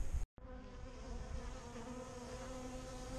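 Honeybees buzzing steadily at an apiary during spring hive work, on a cool day of about plus 10 degrees in the shade; a dense, continuous close swarm drone with no talking.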